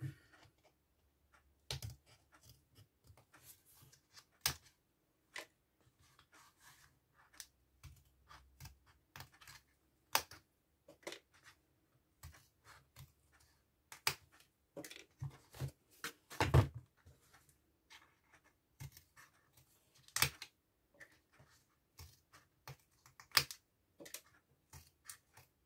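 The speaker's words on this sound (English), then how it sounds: "So I'm just going to trim off a little bit." Trimming a photo mat with a blade, a series of scattered sharp cutting snicks and clacks at irregular intervals, close and fairly quiet, with near-silence between them.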